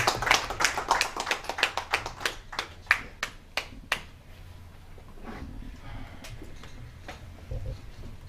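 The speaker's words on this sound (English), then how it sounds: "Please give him a round of applause." An audience applauds to welcome a speaker at a Nigerian Indonesian Chamber of Commerce event: a burst of sharp claps that thins out to a few scattered claps over about four seconds, followed by room murmur.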